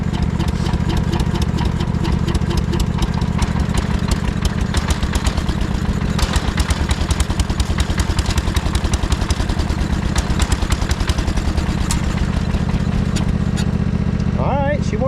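A 1968 John Deere 140 lawn tractor engine runs steadily at a loud, close idle throughout, a continuous low throbbing hum with a faint sputter near the end.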